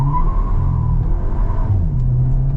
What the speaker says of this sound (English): So that was a fair bit more wheel spin that time.